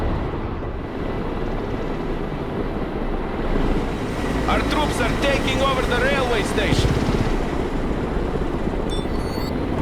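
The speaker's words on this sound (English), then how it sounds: "I'm sending in the transport helicopters." Transport helicopters arrive in the military strategy video game Broken Arrow, a loud continuous rotor and engine rumble with wind-like roar throughout, while a radio voice speaks over it midway.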